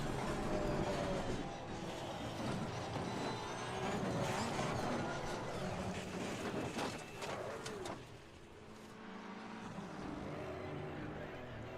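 A Porsche race car engine in Assetto Corsa Competizione at Imola drones on continuously, its pitch rising and falling through gear changes. Someone talks intermittently over it.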